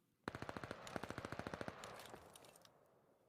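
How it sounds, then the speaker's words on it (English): Rapid automatic gunfire rattles across the Barrage map in a competitive video game match, a fast even burst of about fifteen shots that tails off into a softer echo. "Rattle of gunfire across Barrage."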